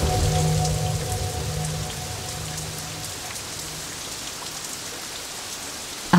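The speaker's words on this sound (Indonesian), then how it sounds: "hujan pun turun." Steady rain falls and patters on surfaces, a dense hiss that starts slightly louder and settles to a constant even wash, with no voices.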